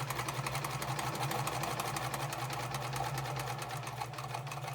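A sewing machine stitches a centered zipper seam, its needle whirring in a fast, steady, continuous rhythm from start to finish. The sound is close and even, with no talk over it.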